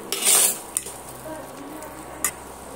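Coconut milk potato curry stirred in a pan over low-to-medium heat: a few brief metal scrapes and clinks of a spoon against the pan, the loudest near the start, over a soft, steady background sizzle.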